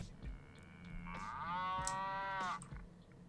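Cow mooing in a burger-restaurant video game, a single drawn-out low moo swelling in the middle, loud and close over faint game background sounds.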